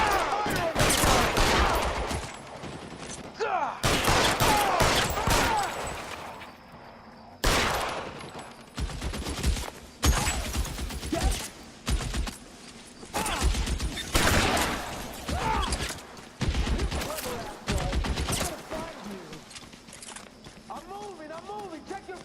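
Gunfire fills a shootout in the video game L.A. Noire on Xbox 360, with loud bursts of rapid shots and volleys in repeated clusters, separated by short quieter gaps where characters shout over it.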